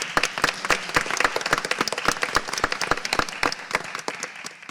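A round of applause at a school board meeting: many hands clapping in a dense, continuous patter with some sharp individual claps standing out, steady throughout and tapering slightly at the end.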